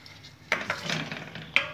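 Egg curry spices with dry chilli powder are stirred in a pan. Two sharp scrapes of a utensil against the metal come over a faint sizzle, heard up close.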